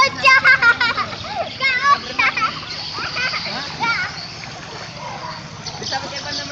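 Children splashing and playing in floodwater with an inner tube, with lively kids' voices and chatter over bursts of water splashing close by.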